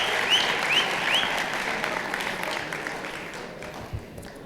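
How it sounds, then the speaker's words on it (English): An audience at a Saudi cultural event gives a round of applause, with steady dense clapping that carries for several seconds and slowly thins toward the end. "a round of applause."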